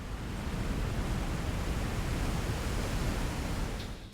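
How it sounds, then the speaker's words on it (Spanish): Steady broadband roar of Lava Falls, a dangerous whitewater rapid on the river through the Grand Canyon, loud and continuous like heavy surf, with no voices. "Puedes oír las cascadas de lava mucho antes de llegar."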